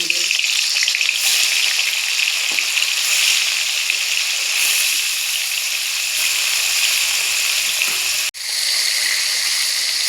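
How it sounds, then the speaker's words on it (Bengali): Paneer cubes frying in hot mustard oil give a steady, loud, close sizzle that runs nearly unbroken, with a brief dropout near the end before the crackle resumes. "এখন তেলের মধ্যে পনিরগুলো দিয়ে খুব ভালোভাবে ভেজে নেব।"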